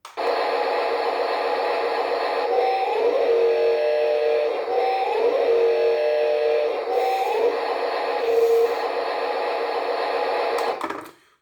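The sound module of a Huina 583 RC loader toy plays a continuous buzzy, slightly tinny engine drone with a few rising whine-like tones mixed in, steady and fairly loud, ending abruptly.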